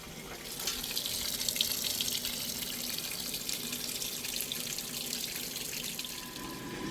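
A Maytag washing machine fills with water: a steady, close rush of running water that holds evenly for several seconds with no one speaking.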